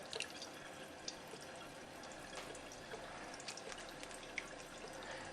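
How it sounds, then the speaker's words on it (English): Water from a water ionizer trickling into a test tube, a steady, fairly quiet stream with small drippy splashes running the whole time, and no talking. "First, you'll fill up the test tube about halfway."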